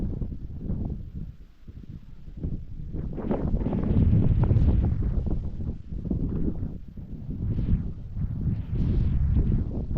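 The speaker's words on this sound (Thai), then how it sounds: "โอ้ลมพัดเย็นดีขนาดนั้น" Cool wind on a mountain viewpoint above hillside rice fields in northern Laos buffets the microphone in low, rumbling gusts that swell and fade continuously, loud and close, with no voices.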